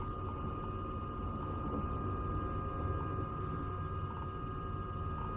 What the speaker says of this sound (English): helicopter, the Robinson R66. An amazing little helicopter.